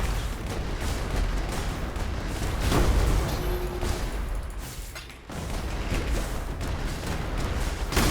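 Dense, continuous video game combat in Path of Exile with an auto-bomber build, rapid overlapping explosions and crackling blasts booming loudly for several seconds, with a brief dip in the middle before the barrage resumes.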